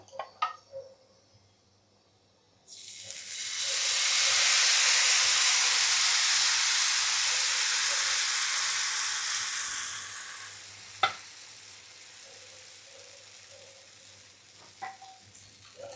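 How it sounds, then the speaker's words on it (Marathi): Dosa batter hits hot oil on a pan with a sudden loud hissing sizzle after a few quiet clicks; the sizzle holds strong and then fades to a low crackle, with light utensil taps. "तेल चांगलं झाले तापलेलं आहे आता आपण डोसा टाकून घेऊया"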